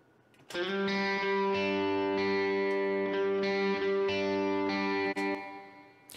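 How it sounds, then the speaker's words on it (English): Sustained distorted electric guitar chords ring out through a Slate Digital Verb Suite Classics stereo reverb, with a wide, spacious reverb tail, changing every second or so and continuing without pause. "Now we have a stereo reverb"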